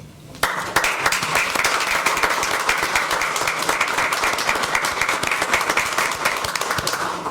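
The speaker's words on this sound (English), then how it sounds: "let's hear a round of applause for him" A city council meeting audience breaks into loud, sustained applause for a Boy Scout from Troop 85, the clapping starting abruptly and staying dense and close until the end.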